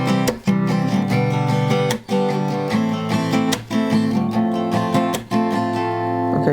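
Acoustic guitar plays the opening two bars of a song, strummed chords with clear regular attacks, close and alone.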